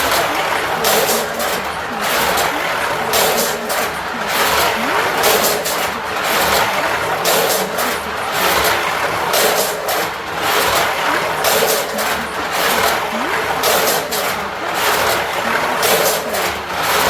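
Slot cars (Carrera, Fly, Scalextric and Slot.it) racing around a track during a time trial give off a steady, loud high-pitched electric motor whine that rises and falls as they lap. The sound is continuous and runs without talk.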